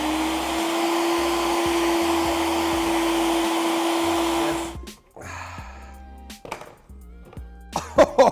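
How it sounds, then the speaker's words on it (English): Kitchen blender running loud and steady with a constant high whine for several seconds, then cutting off into quieter scattered clatter and small knocks. "Oh, you don't want me to talk over the blender? You can't hear it?"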